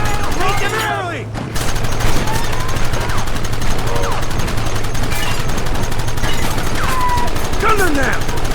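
Heavy, overlapping gunshots from a Red Dead Redemption gunfight pound steadily from start to finish with one short break early on, and in-game voices yell over the racket.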